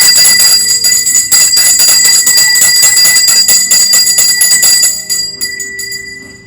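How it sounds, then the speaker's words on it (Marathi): A hand bell rung during a puja for a new Chetak electric scooter rings loud, close and continuous in rapid shakes for about five seconds, then fades away. "घंटानाद समर्पयामि"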